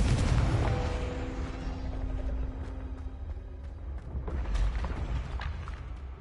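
A Confringo blasting spell in Hogwarts Legacy sets off a loud, close explosion that opens with a heavy boom and fades into a long, rumbling tail, with a few scattered crackles after it.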